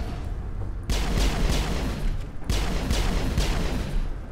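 Pistol gunfire from the video game Mass Effect crackles in two dense bursts of rapid shots, loud and sharp, with no voices over it.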